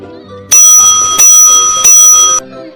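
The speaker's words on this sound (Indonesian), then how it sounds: "Bel tanda istirahat pun berbunyi." A school bell rings loudly and close for break time, with three long, bright metallic rings in a row, each broken off briefly before the next, over faint room sound.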